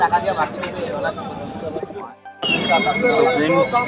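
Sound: white lotan pigeons at Chandipur bird market

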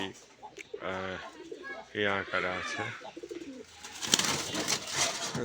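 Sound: pigeons cooing

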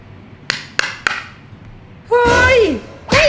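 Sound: hammering center of DIY cardboard cotton candy machine

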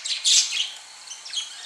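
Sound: escaped lovebirds calling in a backyard

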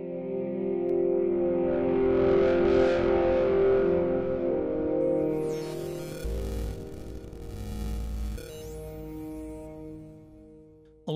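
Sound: distortion effect on synthesizer

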